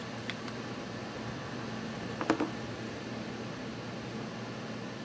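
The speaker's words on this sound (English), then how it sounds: "That's my air conditioner." An air conditioner hums steadily in the background, a faint, even whooshing drone that runs throughout with a couple of small rustles.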